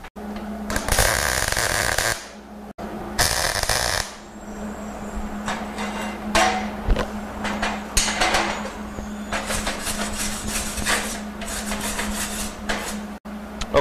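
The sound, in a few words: MIG tack welding two steel pieces together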